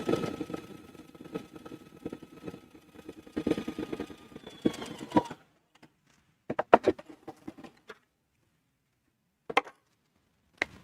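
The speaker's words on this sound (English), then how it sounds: "So put your presser foot down and go ahead and sew." A sewing machine runs a twin needle straight stitch through stretch fabric, a steady close mechanical chatter for about five seconds, then short separate bursts of stitching with quiet pauses between.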